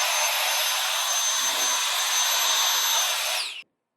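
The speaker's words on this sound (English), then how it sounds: "And it's also really good for leaf blowing." An Easywox handheld electric blower runs steadily at close range with a loud, broad airy whine, alone with no talk, then cuts off abruptly near the end.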